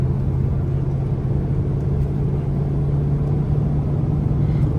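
Range Rover SVR cruising at speed on a snowy road that has turned to pavement, with a steady loud engine drone and low road rumble throughout, no talking.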